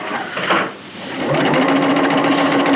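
A sewing machine runs steadily, close and loud, stitching a pocket into a garment seam, with a brief pause before the rapid whirring resumes and continues to the end.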